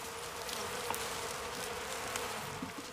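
Bees buzz around a hive being calmed with smoke in the wild, a dense steady drone with occasional nearer passes, moderately faint and with no voices.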